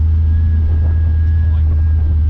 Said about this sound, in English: Let it ride down. Engine brake.